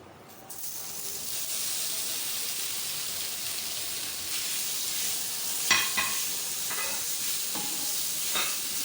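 Macaroni sizzling and frying with spices in a hot pan, a steady bright hiss with a few sharp scraping stirs near the end, close and loud with no talking.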